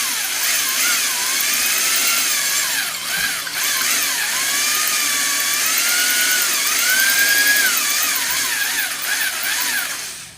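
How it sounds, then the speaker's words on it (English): Power drill with a blunt bit grinding into a stucco wall, a steady, close, loud whine that wavers in pitch as the bit strains against the hard surface, running continuously with no talk. "See how hard it is to drill into stucco."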